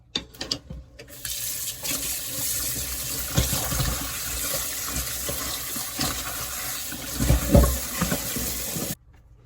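Water runs steadily from a kitchen tap as ingredients for fried pork with onions are washed beneath it, a continuous close splashing stream that stops abruptly near the end.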